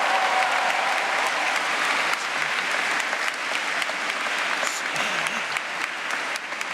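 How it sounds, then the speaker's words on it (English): Incoming students and their families applaud at an opening convocation, a full hall of clapping that stays loud and even before thinning slightly toward the end, with faint voices underneath. "Give yourselves a big round of applause."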